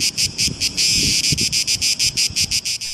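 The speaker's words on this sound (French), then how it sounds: "Il y a des grillons absolument partout ici." Crickets chirp in steady pulsing bursts all around at an ancient Greek theatre site, a dense, continuous shrill trill with rapid rhythmic pulses and no voices.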